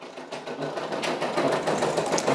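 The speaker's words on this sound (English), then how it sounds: "This design is stitching out nicely." A Brother Persona embroidery machine stitching a Michael Jackson patch, a steady rapid mechanical chatter of the needle running continuously at close range with no pauses.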